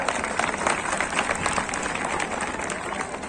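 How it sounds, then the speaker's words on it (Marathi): Crowd at a village wrestling bout during a temple fair applauds a girl wrestler, a dense, steady wash of clapping and cheering voices that fills the whole stretch at moderate loudness. "तिच्यासाठी जरा टाळ्या पाहिजे होत्या"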